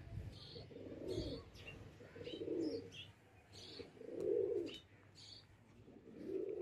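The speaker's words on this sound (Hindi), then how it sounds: "कबूतर आया यार" Pigeons kept on a rooftop coo in repeated soft, rolling phrases about a second apart, fairly faint, with light chirps and background noise between the calls.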